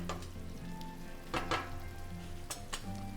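Urad dal cooking uncovered on high heat in a pot, a constant quiet sizzle and bubbling with occasional clinks and scrapes of a utensil against the metal.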